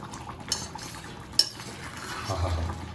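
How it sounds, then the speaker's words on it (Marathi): A spoon stirs mutton pulao rice in a cooking pot, with a couple of sharp metal clinks over a soft scraping, mixing sound. "थोडंसं आपलं मिक्स करून घेऊ"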